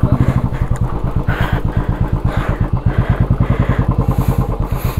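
Royal Enfield Classic 350 motorcycle off-roading: a steady, loud single-cylinder thump pulsing rapidly and close, with speech over the engine.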